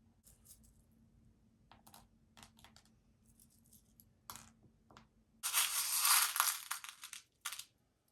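Glass being crushed for a blue and silver cityscape artwork: scattered light clinks and scrapes of small shards, then a louder burst of gritty grinding and crunching lasting a second or two, with a final crunch, all close and unaccompanied by talk.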